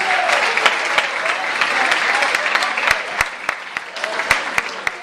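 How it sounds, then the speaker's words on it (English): Wedding reception guests give a round of applause for the best man and matron of honor, a steady wash of crowd clapping with a few sharp, close individual claps standing out, with faint chatter beneath. "How about, ladies and gentlemen, one more big round of applause for our best man and matron of honors."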